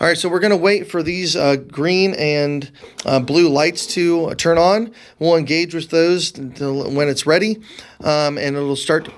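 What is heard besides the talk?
None of the usual background noises is heard.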